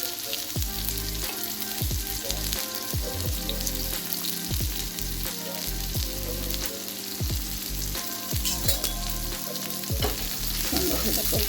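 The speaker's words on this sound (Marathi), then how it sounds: "तेल गरम झाले जिरे टाकू आणि आता कांदा टाकू" Chopped onion fries with cumin in hot oil for a bitter gourd stir-fry, a dense constant sizzle overlaid by regular, rhythmic scraping strokes of a spoon across the pan.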